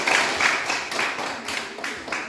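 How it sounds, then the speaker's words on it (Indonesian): Audience clapping for the first group at a classroom presentation session, a steady round of applause from a crowd with rhythmic peaks, fairly close and continuous throughout. "kasih semangat, kasih tepuk tangan yang sangat kencang untuk kelompok 1."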